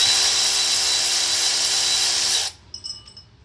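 A power tool, likely an impact driver or drill, whirs loudly and steadily while backing out bolts on a Nissan power steering pump, then cuts off abruptly, leaving faint metallic clinks.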